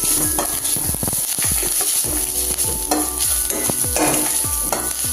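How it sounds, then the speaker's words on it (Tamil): Grated coconut sautéed with onions in a pan, heard as a steady loud sizzle and a repeated rhythmic scrape of a spoon stirring, close up with no voices. "தேங்காய் துருவலை சேர்த்து நல்லா வதக்கணும்."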